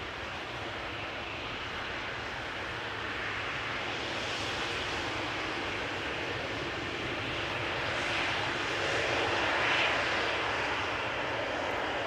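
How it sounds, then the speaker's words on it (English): An Embraer 195 arriving at Amsterdam Schiphol from Warsaw makes a steady broadband jet roar that swells gently toward the end, continuous and fairly distant, with no voices. "Which is an Embraer 195. And arrived from Warsaw."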